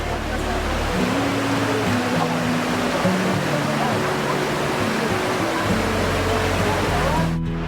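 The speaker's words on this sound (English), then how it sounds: "Lodh, the highest waterfalls in Jharkhand, roars through these rocky hills with its majestic force echoing deep in the forest." Lodh waterfall in the rocky, forested hills of Jharkhand sends up a constant broad rush of falling water, with music playing over it throughout.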